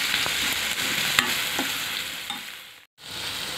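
Raw lentils with salt and turmeric fry in a pan, a steady close sizzle with a few stirring scrapes and one brief cutout near the end, with no talk.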